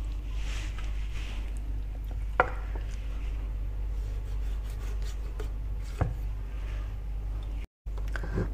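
Knife trimming excess fatty skin from a raw chicken for ginseng soup, a few scraping, rubbing cuts with two sharper knocks on the board over a steady low hum, close and moderate in level.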